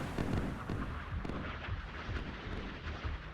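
Rapid naval gunfire from warships in the naval combat game Sea Power: a dense, rumbling run of booming shots and bursts, fairly loud and continuous with no voices.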